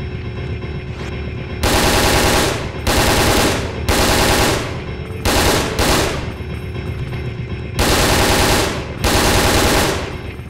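Repeated bursts of automatic gunfire against zombies in Resident Evil: Dead Aim on PlayStation 2, loud clattering volleys of about a second each separated by short gaps over a steady game background drone.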